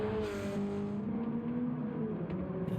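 Race car engine in Gran Turismo 7 running steadily along a backstretch, a loud sustained droning whine with slight pitch shifts as it holds speed, no talking.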